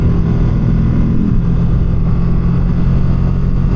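A Ducati Streetfighter runs on the road with a loud, steady engine drone and heavy wind rumble, and its pitch shifts slightly partway through as the rider moves along, with no talking.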